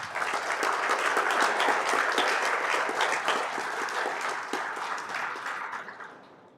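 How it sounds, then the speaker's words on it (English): Audience clapping at a Scrabble championship opening in Accra, with dense, sustained applause from a large crowd in a hall that gradually fades out over several seconds, no speech over it. "shall we welcome the President with a big round of applause for his message?"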